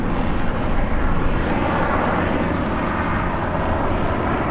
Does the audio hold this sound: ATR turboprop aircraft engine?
yes